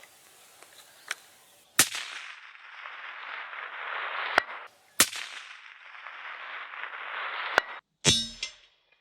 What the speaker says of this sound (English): Too many shots through the silencer.